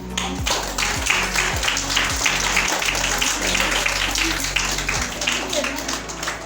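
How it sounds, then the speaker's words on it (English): Audience clapping after a student's speech at a school Tihar program in Dharan rises into a dense, sustained round of applause, with many hands beating quickly and evenly near and far, and a voice speaking over the clapping. "Everyone, once more, give her a huge round of applause"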